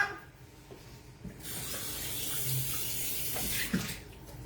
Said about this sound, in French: On se lave les mains.